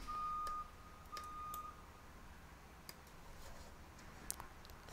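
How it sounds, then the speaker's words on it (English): A repeated electronic beeping sounds from outside the cockpit of a King Air C90B aircraft, as short steady tones in a quick series near the start and then stopping, heard against a constant low cabin hum. "It's really beeping outside."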